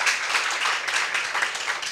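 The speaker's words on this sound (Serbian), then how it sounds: "Ja bih zamolila za jedan aplauz oko kolektivno" Audience applause at a live-streamed presentation, dense steady clapping from a seated group lasting the whole moment without talk.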